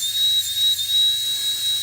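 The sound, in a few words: rotary tool burr carving a duck egg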